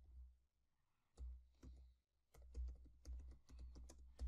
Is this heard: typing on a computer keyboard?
yes